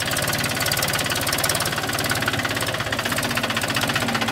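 A Mahindra 265 DI tractor with a 35 HP three-cylinder engine runs close by with a steady, rapid diesel knock that stays constant and loud throughout.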